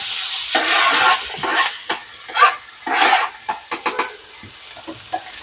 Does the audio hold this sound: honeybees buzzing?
no